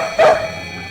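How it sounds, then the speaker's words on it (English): A single short dog bark from a distant dog in the night, part of a twilight bark passed across London, one clipped yelp over a quiet background. "We'll use the twilight bark to alert all the dogs in London and in the villages nearby."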